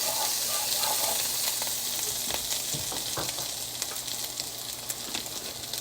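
Ginger and garlic fry in oil on a hibachi, a steady loud sizzle with crackling pops and scraping stirs close by, with a faint low hum beneath.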